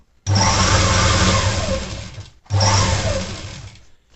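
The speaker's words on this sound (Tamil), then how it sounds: "இப்போ இங்கே வந்து ஸ்டிச் பண்ணிகிட்டே வந்துடுவோம்" A sewing machine stitches a pinafore in two fast, close, loud bursts, a long run followed by a short pause and a second shorter run, each ending as the motor slows.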